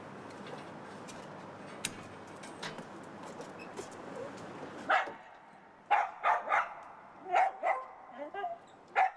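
A dog gives several short, sharp barks in the second half, close and loud, separated by brief gaps, after a quieter stretch of low background noise and a few faint ticks.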